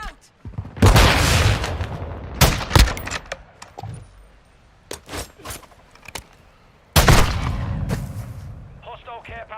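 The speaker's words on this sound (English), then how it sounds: "Throwing flash grenade! Flash out!" Video game flash grenades being thrown in a multiplayer shooter match, heard as several loud, sharp bursts with booming blasts and crackling tails, spaced irregularly, with brief pauses between and a short metallic rattle at the end.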